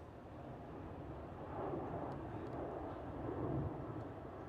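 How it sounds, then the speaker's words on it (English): KLM Boeing 787 departing Schiphol Amsterdam, a steady distant jet roar that swells slightly midway, heard alone without talk. "we have a KLM 787 departure"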